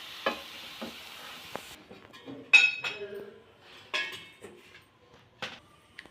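Fried cauliflower pieces tipped from a pan onto a plate in a kitchen, giving scattered clinks and scraping taps of utensil against cookware, soft and close, between quiet pauses.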